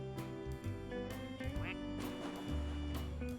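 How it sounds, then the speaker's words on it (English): Cartoonish quacks from a plastic duck in the video game Placid Plastic Duck Simulator, repeated several times over a layered, busy game soundtrack. "The duck quacks for thee."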